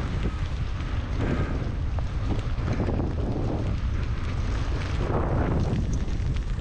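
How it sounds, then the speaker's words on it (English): Strong wind on a Welsh mountain during hail buffets the microphone in a steady, roaring rumble with gusty surges throughout, no voices present. "That was insanely windy out there."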